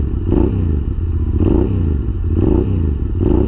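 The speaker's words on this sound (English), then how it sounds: "God, it sounds so good with that Yoshimura pipe." Close, loud idle of a Yamaha Tenere 700 fitted with a Yoshimura exhaust: a deep, lumpy throb that swells in regular pulses about once a second, with no one talking.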